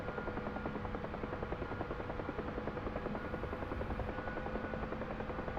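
Gunship helicopter flying low over terrain during training: a steady, rapid rotor thump and turbine whine, continuous and even throughout, heard from inside or very near the aircraft.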